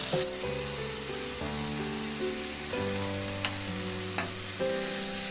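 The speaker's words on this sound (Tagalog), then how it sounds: "Ituloy lang ang paghalo hanggang sa mag-reduce lang din yung toyo at oyster sauce." Pork liempo sizzling loudly in a pan with soy and oyster sauce, a steady close frying hiss with occasional clinks of a utensil as it is stirred, no talking.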